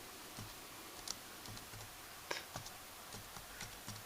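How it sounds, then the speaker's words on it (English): Keys clack on a computer keyboard as a few words are typed into a slide text box, a sparse, irregular run of light clicks with short pauses between them, close by and fairly quiet. "I can go ahead and highlight this text box here and type in ready"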